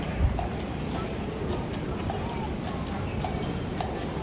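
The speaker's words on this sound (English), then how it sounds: "Guys, a horse." Horse hooves clip-clop in a steady, even rhythm at moderate distance, a faint running beat beneath constant background rumble.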